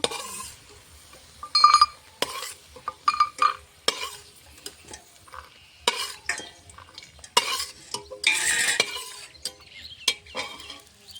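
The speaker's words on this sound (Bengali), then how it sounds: "বাদামটা লাল লাল করে ভেজে নিয়েছি নামিয়ে নিব" Peanuts roasting to a reddish brown in a dry pan, stirred in irregular bursts of scraping, rattling and metallic clinks, with quiet pauses between strokes and no voices.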